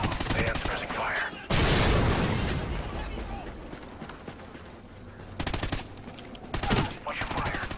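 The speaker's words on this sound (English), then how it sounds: "They have suppressing fire." Rapid gunfire and explosions from the Call of Duty: Ghosts video game, with loud dense bursts and volleys layered under steady battle noise throughout.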